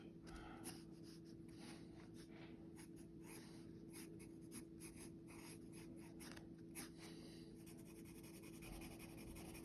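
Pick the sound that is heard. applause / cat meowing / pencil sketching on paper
pencil sketching on paper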